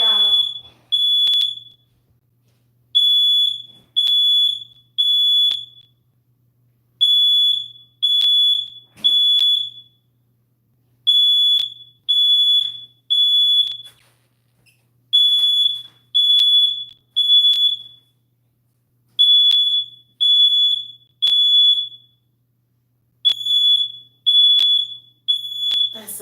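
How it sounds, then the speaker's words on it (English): A smoke detector goes off again and again in loud bursts of piercing, rapid beeps, each group followed by a brief silence, with the pattern repeating throughout. "that smoke detector didn't have to go off"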